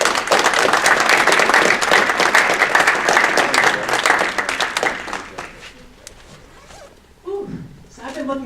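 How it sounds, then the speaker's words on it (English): Audience applause for Loki Mulholland, loud and dense for about five seconds, then thinning out and fading, with a speaker's voice coming in over the final scattered claps. "how about another round of applause for Loki?"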